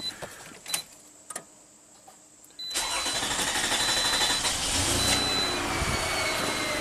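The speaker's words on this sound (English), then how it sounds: "Let's start up the car, make sure there are no fuel leaks." A 427,000-mile Toyota with a lean-running fault cranks and catches, a few faint clicks before the engine fires and settles into a steady close idle.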